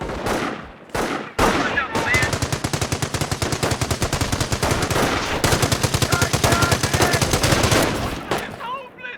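Rapid sustained machine-gun fire from the Company of Heroes tutorial, loud and close, opening with a few isolated shots before a long continuous burst that cuts off near the end.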